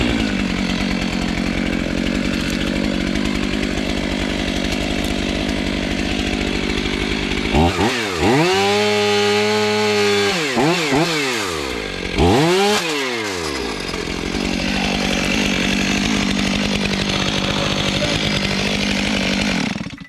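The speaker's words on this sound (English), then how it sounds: "Featuring the Stihl MS500i." A Stihl MS500i chainsaw cuts through hemlock wood, its engine droning steadily near and loud, then revving hard in rising and falling bursts twice before settling back to a steady run.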